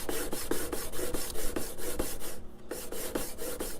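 A steel card scraper is rubbed back and forth on a GMT diamond sharpening stone, giving a steady rhythmic rasping of quick regular strokes, close and clear with one brief pause.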